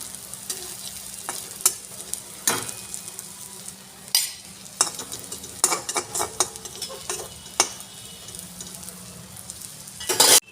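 A rolled egg omelet fries in a pan with a low, steady sizzle, punctuated by scattered clinks and scrapes of a spatula or utensil against the pan, close by and with no voices.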